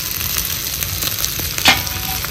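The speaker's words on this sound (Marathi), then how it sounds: "आता ही मसाला भाजत आलाय." Ground masala with onion and garlic frying and roasting in a pan for chicken curry, a loud, close, steady sizzle with a brief stirring scrape near the end.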